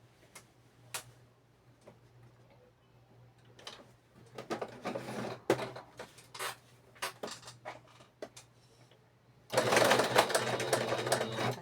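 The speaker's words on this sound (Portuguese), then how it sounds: "Vou puxar minha máquina, já tá ligada com a linha." A sewing machine stitches the foot of a Miyuki bead baby figure, starting with scattered close clicks and handling noises, then running in a steady loud whirring burst near the end.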